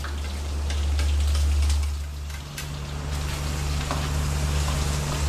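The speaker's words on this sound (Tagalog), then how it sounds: "Tapos bawang luya para kumatas na." Garlic and ginger sizzle in a hot pan with a steady crackling hiss, close and continuous, over a low background hum.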